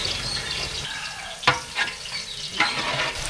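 Ginger garlic paste sautés with onion and tomato for a vegetable biryani: a continuous close sizzle with three quick spatula scrapes and knocks against the pan.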